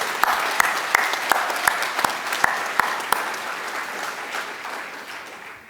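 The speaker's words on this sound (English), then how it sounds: "Students, let's give them a round of applause." Audience at a university senior recognition ceremony applauding volunteers and faculty, steady close clapping with sharp individual claps early on, then fading gradually toward the end.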